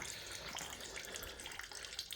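Water drains out of the diesel engine of a Ford CM224 3-cylinder 4x4 tractor, a soft, steady trickling and splashing that is faint and close, with no voices.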